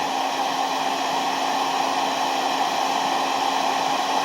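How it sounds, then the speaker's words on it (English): Loud, unbroken roar of a hair dryer running on high, drawing power from an EcoFlow Delta Pro power station, with a steady airy hiss and motor whine throughout. "I'm going to put the hair dryer on high"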